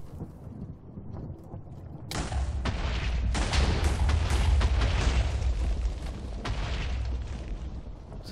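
A Minecraft explosion goes off after a quiet stretch, a sudden loud boom followed by several seconds of dense rumbling and crackling debris that slowly thins out.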